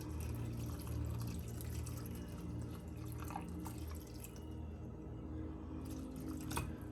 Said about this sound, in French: Ensuite, je vais juste mettre de l'eau.